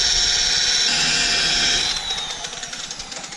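Power polisher running with an aggressive pad and compound on a Shelby GT500 hood, a loud, close, high-pitched whine that holds steady, then drops and winds down into a fluttering pulse.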